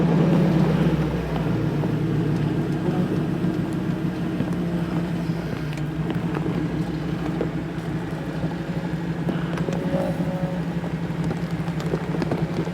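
A Jeep grinds up a rocky, dangerous off-road trail, its engine droning continuously at close range with scattered crunches and knocks from rocks under the tires.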